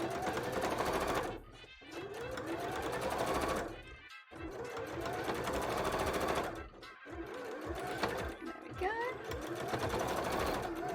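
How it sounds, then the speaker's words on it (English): A sewing machine stitches fabric for a cup-shaped costume bra, running in loud, rapid bursts of several seconds separated by short pauses, close and dominant. "So let's sew that into the bottom of this part where we have the overhang from the cup."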